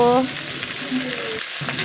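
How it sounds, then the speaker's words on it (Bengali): Capsicum and onion frying together in a hot wok for a vegetarian potato paneer masala, a steady close sizzle running through the short stretch without talk. "এখন ক্যাপসিকাম পেঁয়াজটাকে ভালো করে ভেজে নেব"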